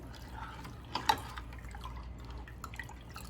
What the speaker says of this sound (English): So depending upon the thinness you want, you can add water